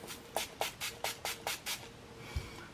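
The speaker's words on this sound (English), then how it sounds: "Let me give myself a spray." Tiam Vita B3 mist toner is pumped from a spray bottle onto a face in seven quick, evenly spaced spritzes, each a short close hiss, followed by a faint rustle.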